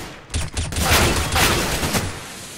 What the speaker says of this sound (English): Laying down smoke.